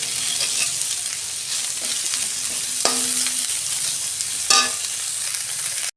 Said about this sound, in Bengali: পেঁয়াজটা আমি ভেজে নিয়েছি।